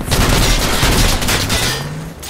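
Loud, dense bursts of automatic gunfire pour at an enemy technical vehicle in the military shooter Project Reality, sustained and close for the whole stretch.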